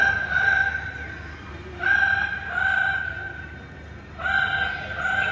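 A parrot at a bird show in Bird Paradise, Singapore mimics a ringing telephone, giving repeated electronic-sounding trilled rings in three distinct bursts with short pauses between them, close and fairly loud against quiet room ambience.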